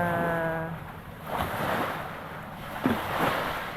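Sea waves wash and surge against the shore at Malitbog, Southern Leyte, amid wind noise, with a brief tonal hum at the start and a bump near the end.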